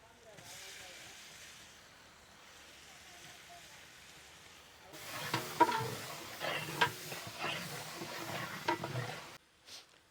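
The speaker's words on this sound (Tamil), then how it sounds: "வெங்காயம் நல்லா பொன்னிறமாக வதங்கிடுச்சு" Sliced onions sautéing in a pan with coriander and mint leaves for mutton rasam, a soft steady sizzle with stirring scrapes and clinks that grow louder midway, close by.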